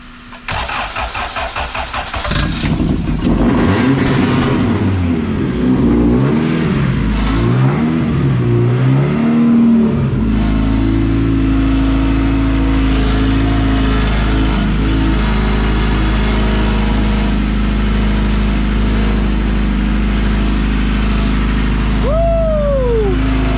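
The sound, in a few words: VW EF hatch engine starting and revving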